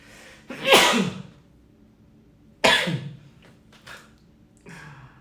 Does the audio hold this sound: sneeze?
yes